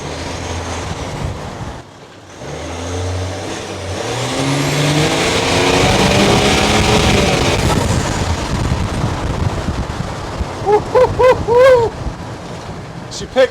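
Bernard Kerr's M57 US Mail turbo race van accelerates hard, engine note rising loud and close from a low rumble into a broad roar, then easing off, with brief chirping sounds near the end.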